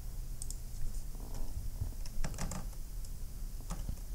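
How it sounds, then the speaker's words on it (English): Light, scattered clicks of typing on a computer keyboard into a search bar, irregular keystrokes heard close and fairly quiet with no talking. "So just type in the search bar mining engineering in jobs."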